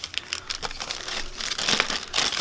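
Plastic bags crinkle and rustle as tapioca starch is added to coat water chestnuts, a close, continuous crackling with irregular bursts that grows slightly louder toward the end.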